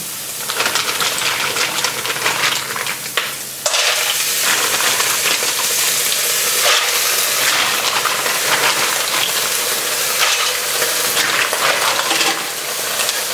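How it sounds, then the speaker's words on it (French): Mussels tipped into a hot pot with beer set up a loud, steady broadband sizzle and crackle, a sharp clatter near the start, then continuous hissing boil without talk. "Je vais mettre mes moules."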